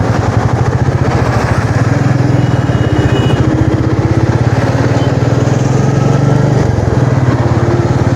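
A Royal Enfield Meteor 350 motorcycle being ridden on a national highway, its engine giving a steady, smooth, rapid thumping drone, loud and close throughout with no talk.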